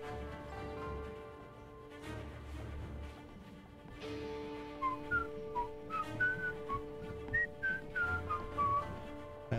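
Whistling from a cabinet in Assassin's Creed Chronicles: China: a tuneful, warbling series of short whistled notes over steady game music, growing busier in the second half.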